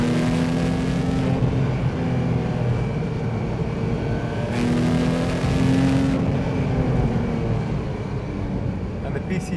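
A Porsche 911 997.1 GT3 engine revs hard above 4000 RPM, giving a loud, sustained high-pitched howl that rises and holds steady throughout.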